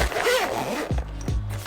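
Zipper on a small storage case being pulled closed in a few quick rasping strokes, close and fairly loud, in a quiet indoor room.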